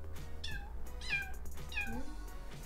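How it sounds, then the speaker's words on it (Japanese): A tiny kitten mews repeatedly indoors, three or four thin, high-pitched meows in a loose rhythm, close by over a steady low hum. "猫ちゃんってこんなちっちゃくても運動神経抜群なんだね"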